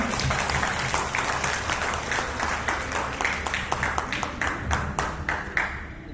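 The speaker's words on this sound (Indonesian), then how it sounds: "tepuk tangan buat mereka" An audience applauds continuously, many hands clapping at close range, holding steady for several seconds before tapering slightly near the end.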